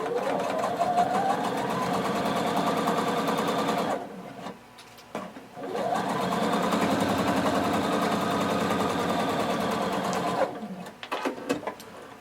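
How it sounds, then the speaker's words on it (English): A sewing machine stitches a curved seam with a 5/8 inch seam allowance: a loud, close, rapid mechanical whir in two long runs separated by a short pause with a few stop-start bursts. "Now we're going to sew with 5/8 of an inch seam allowance along the curved"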